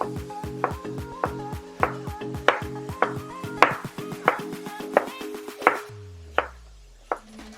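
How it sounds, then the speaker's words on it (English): An onion being sliced with a knife on a cutting board in a kitchen while beef tacos are prepared, giving a steady run of about a dozen crisp, close chops with a few slower cuts at the end. "Remember how we cut up an onion? Right? Bring it across and then start slicing."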